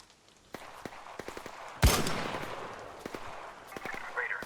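Gunfire in ARC Raiders: scattered sharp shots crack at a distance, then one loud, close blast booms with a lingering rumble, followed by more spaced shots.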